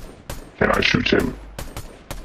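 A burst of video game gunfire crackles loudly for about half a second amid a few sharp isolated shots, with a voice briefly audible over the action.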